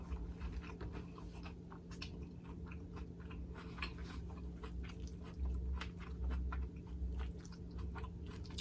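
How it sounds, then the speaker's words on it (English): Someone chews a poke bowl of zucchini noodles over brown rice close to the mic, with soft crunches and moist chewing sounds repeating steadily. "The crunch of the zucchini noodles."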